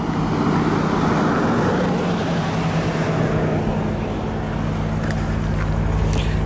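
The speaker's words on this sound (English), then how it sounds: "this has the Lexus 5-liter V8 engine with about 467 horsepower" Engine and road noise from a 2017 Lexus GS F with its 5-liter V8 cruising on a mountain road near Idyllwild, a steady low rumble heard from inside the car with no talking.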